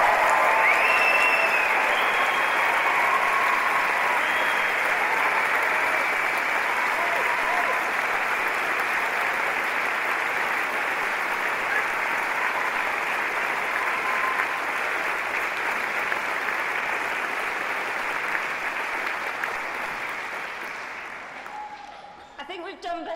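Sustained audience applause for graduates at an Edinburgh University degree ceremony, a dense, steady clapping from a large hall crowd that holds for about twenty seconds before tapering off.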